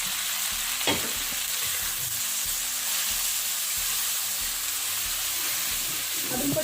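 Okra and potato seasoned with salt, red chilli and soy sauce cook in a pan. The sizzle is loud and steady, broken by a few stirring scrapes and rattles, and no one speaks.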